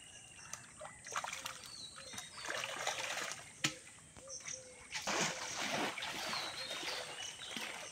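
Fish released into a pond in Barasat, with repeated watery splashes and trickles over outdoor ambience, moderately near, with one sharp knock midway.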